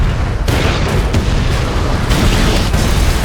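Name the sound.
explosion in film I Am Legend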